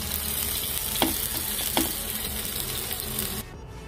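Mint paneer tikka sizzles on a hot tawa in a steady, close frying hiss, broken by two brief louder scrapes before the sound drops away near the end.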